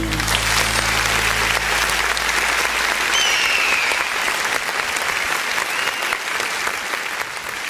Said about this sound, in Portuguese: E as palmas engrandecem o nome de Jesus.